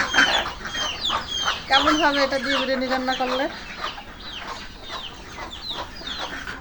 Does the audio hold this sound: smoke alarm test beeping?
no